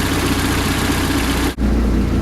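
A Mercruiser 3.0 inboard engine in a Bayliner 175 boat idles steadily, a loud, even low rumble with a regular pulsing beat, briefly cut by a short dip before resuming unchanged.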